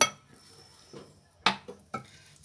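Oat cake batter being stirred in a bowl, with a few distinct clinks and scrapes of a utensil against the bowl spaced irregularly over a quiet background.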